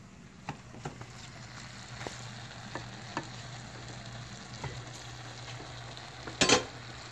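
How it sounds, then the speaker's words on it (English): A spoon stirs a pot of firehouse chili, producing soft, irregular scrapes and knocks roughly every second over a low simmering hiss, ending with a louder clatter, with no speech. "I'm going to stir this chili because we don't want it to stick"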